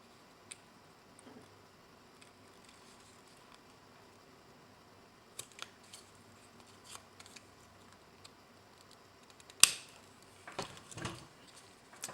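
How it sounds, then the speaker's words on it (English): Scissors trim the paper tabs of a pop-up lotus flower card, starting as faint sparse snips and small taps, then a sharper cluster of close cuts near the end, with no talk. "Cut these threads off, and then now you want to trim these tabs."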